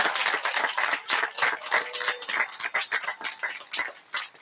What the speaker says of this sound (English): Let's give all of these students a big round of applause for their extreme success.